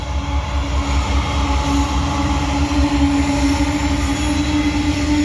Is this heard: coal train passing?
yes